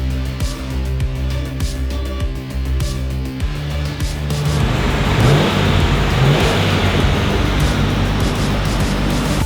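A turbocharged LS1 engine in a VY ute runs on a dyno, a loud low drone that builds into a heavier roaring rev partway through and stays loud to the end.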